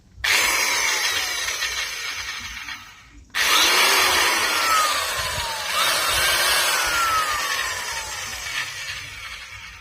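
A Makita/Maktec MT583 7-inch circular saw motor with a newly replaced armature whirs at a high, steady pitch with an odd tone, cutting out briefly and spinning back up, running loud and close with no voices.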